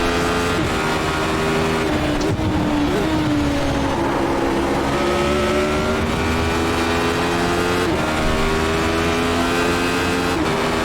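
Radical SR8 race car in iRacing at Road Atlanta, its engine droning steadily at high revs with rising and falling pitch through shifts and corners, loud and continuous throughout, with no talking.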